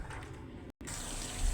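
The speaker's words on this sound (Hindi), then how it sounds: "भर के आया है, तो मैं कूलर में डाल रही हूँ पानी" Water poured from a refilled container into a household water cooler, a steady close splashing gush that briefly cuts out before resuming and continuing alone.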